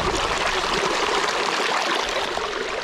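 High-altitude snowmelt water rushing in a mountain stream atop a pass, a steady close broadband rush and gurgle, continuous and loud with no voices.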